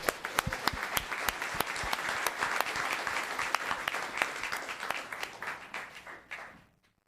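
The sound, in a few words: applause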